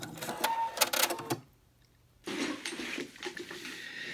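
A sewing machine back stitches the corner of a fabric Japanese bento bag, close and steady, its rapid mechanical whirr running, pausing in a brief near-silent gap, then starting again.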